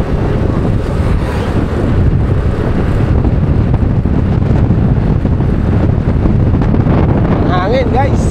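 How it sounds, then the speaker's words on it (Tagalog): Strong wind buffets the microphone outdoors near a roadside highway, a loud continuous rumbling roar that never lets up. "Hangin guys."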